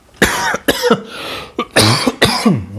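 Several sharp, harsh coughs in a row, close and loud, with short pauses between bursts.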